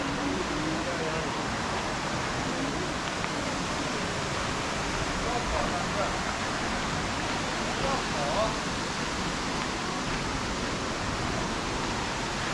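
Rainbow Falls waterfall in Kerikeri, New Zealand, pours as a dense, steady rushing roar that fills all twelve seconds without letup, with faint voices now and then beneath it.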